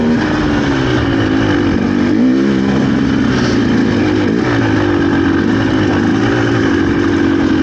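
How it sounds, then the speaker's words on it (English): Loud, steady two-stroke engine of a GPX TSE300 motorcycle running continuously with a buzzing, slightly wavering pitch throughout, no voices over it. "I do realize I get kind of drunk on the noise of two-stroke."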